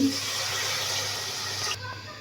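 Water pours briefly into a new pot of frying beef with turmeric, a soft rushing splash, then stops abruptly.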